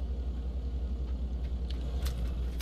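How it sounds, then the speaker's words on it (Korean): A car engine in the battle royale game PUBG gives a steady low rumble that holds level throughout, with a few faint clicks and ticks on top. "차소리"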